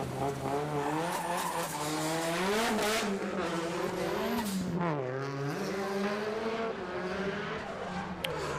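Drift cars roar past trackside during qualifying at the New Zealand Drift Championship, with rising and falling engine pitch and squealing tires, loud and continuous throughout.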